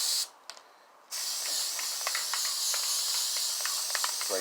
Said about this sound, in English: You want to spray your adhesive on your pattern like this.